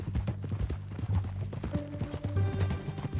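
A horse's hooves clip-clop at a walk in the open-world western game Red Dead Redemption 2, an uneven rhythm of close, distinct thuds with a faint tonal layer of music or ambience entering partway through.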